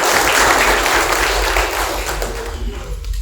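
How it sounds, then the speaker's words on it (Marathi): Loud, dense applause from an audience at a Mahad Kranti centenary celebration event, a sustained roar of many clapping hands that holds steady for the whole stretch and eases slightly toward the end. "त्या ओंजळीसाठी एकदा जोरदार टाळ्या होत्या"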